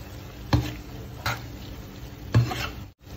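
Creamy tomato basil pasta ingredients stirred in a pan, three distinct scraping strokes at intervals over a faint background sizzle.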